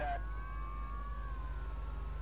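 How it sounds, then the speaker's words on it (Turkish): A police car siren wails in a chase scene from the game Mafia 2, a faint wavering tone over a loud, low, constant engine rumble. "Bir tane polis arabası şu anda bizi kovalıyor arkadaş ya."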